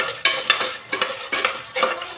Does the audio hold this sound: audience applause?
no